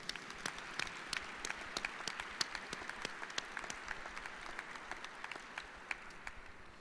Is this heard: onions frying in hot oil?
no